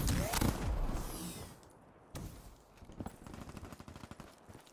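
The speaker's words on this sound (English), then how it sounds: "Why does every gun in COD nowadays sound like a fucking alien?" Call of Duty gunfire with an odd, alien-like tone, a loud burst at the start then quieter repeated shots, with voices talking over the fire.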